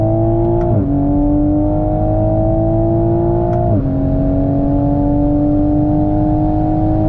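A Toyota Supra built to about 800 wheel horsepower, its engine holding a loud, steady droning rev with two brief dips in pitch, close and alone without talk.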